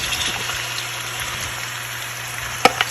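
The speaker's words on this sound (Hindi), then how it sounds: "ऑयल हमारा गर्म हो चुका है तो उसमें हम प्याज डाल देते हैं।" Chopped onions dropped into hot oil sizzle in a pan, a steady moderate crackling hiss with a brief louder clatter near the end.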